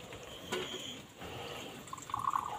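Tap water runs in a steady, close, moderately loud rush for a couple of seconds, with no voices over it.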